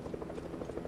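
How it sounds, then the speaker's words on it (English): A helicopter flies in a video game, its rotor a faint, steady, low chopping whir for under a second. "And then there's a helicopter."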